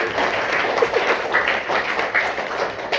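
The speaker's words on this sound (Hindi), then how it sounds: "ताली बजाइए एक बार" Audience clapping at a primary school gathering in Jaunpur, a moderate burst of hand claps with light tapping, fairly close and continuous for a few seconds.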